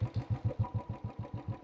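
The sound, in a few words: Royal Enfield Classic 350 motorcycle engine starting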